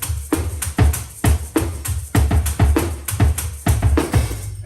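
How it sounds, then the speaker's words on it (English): A shaker played on a foot-operated drum kit rattles along with a steady beat of kick and snare hits, close and lively, keeping an even rhythm for a few seconds. "I have a shaker here."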